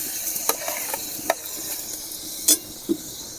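Coconut and melting sugar filling stirred in a wok, with a steady sizzle under scattered scraping clicks and a few sharper knocks of the spoon against the pan.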